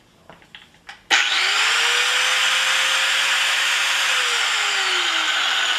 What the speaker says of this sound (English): always wear your safety equipment before using the angle grinder